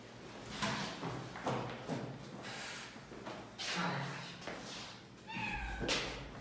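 A cat meows indoors at home, the calls mixed with thumps and faint speech, with a clearer harmonic meow near the end.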